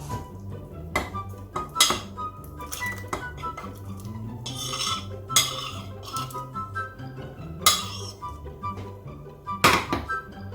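Flaked haddock pieces are tipped back into a cooking pot with dull thunks and metallic clatters of a spoon against the pot, irregular knocks spread over a steady low kitchen hum; no one speaks.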